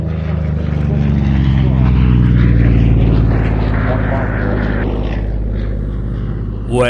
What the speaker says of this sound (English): I certainly hope you enjoyed the sight and sounds of this wonderful aircraft